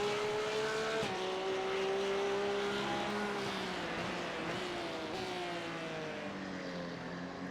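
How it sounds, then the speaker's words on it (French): Race cars lapping Tsukuba circuit in a racing video game, with engine notes rising and dropping through gear changes across several passes, faint and steady, with no talking over them. "Je vais monter le son des voitures"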